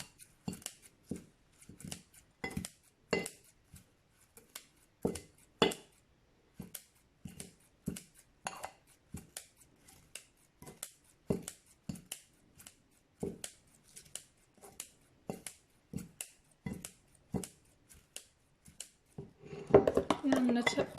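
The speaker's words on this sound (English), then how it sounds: "then once it's kind of fine and finely chopped up like that, I just come through and just give it a bit more of a chop" A knife chops finely cut pine needles, kawakawa and mint on a board in steady, close, crisp strokes of about two per second, ending in a quicker flurry of cuts.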